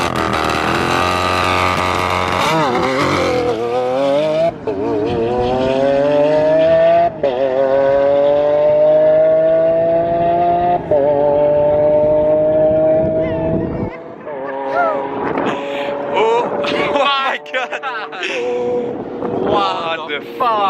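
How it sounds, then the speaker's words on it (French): A Lamborghini Aventador roars through a launch control run on an airport runway, its engine note climbing in a long loud rising wail with gear shifts, then fading off into the distance as people talk nearby. "Oh le bruit de l'Aventador"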